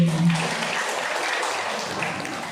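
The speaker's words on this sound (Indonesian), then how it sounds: "Tepuk tangan dulu dong Bu." Steady applause from a crowd of women at an indoor talk on mental health, with dense, even clapping throughout and no pause.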